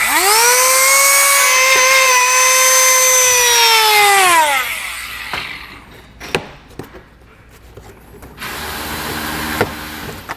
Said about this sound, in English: my preferred method is using a Dremel here, and that's going to get you some nice clean cuts